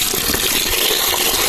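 Close, steady gush of water being poured into a quail curry pot over a fire, a continuous splashing pour lasting the whole moment without any talking.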